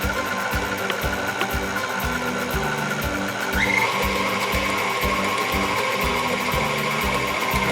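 An electric mixer blending hamantaschen dough at its lowest setting, a steady mechanical whir with a rhythmic ratcheting pulse running the whole time, close and fairly loud with no voices.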